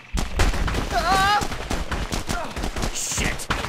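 A gun turret in The Punisher video game fires rapid bursts of automatic gunshots, sharp, close and loud, mixed with whirring tones and other game effects.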